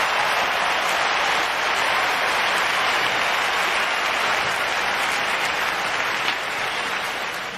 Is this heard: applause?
yes